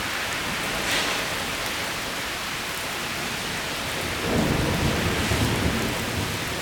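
A low rolling rumble of thunder swells partway through a severe thunderstorm, over a steady hiss of heavy rain, heard at a moderate distance.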